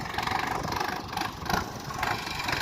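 A tractor engine idles steadily in a chickpea field in the Ghed region, a continuous mid-low rumble with slight pulsing, close and moderately loud, no voices over it.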